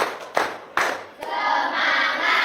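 A group plays the 'tepuk fokus' clapping game, three sharp, separate unison claps spaced evenly, followed by a rising murmur of group voices and scattered clapping that carries through to the end.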